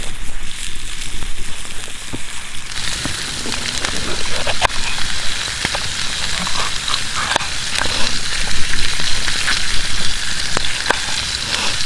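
Steak frying in extra virgin olive oil, seasoned with Lawry's and pepper, gives a steady close sizzle with scattered crackles and pops throughout, a bit louder toward the end.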